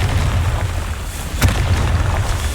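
A Confringo fire spell in Hogwarts Legacy: a continuous low rumbling blast with a sharper burst about midway, dense and fairly loud from start to finish.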